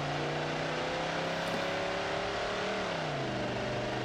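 Drag car in the BeamNG racing game launching from about 2,400 RPM and pulling hard down a quarter-mile strip, a steady loud engine drone whose pitch climbs and shifts through gear changes, with no talking.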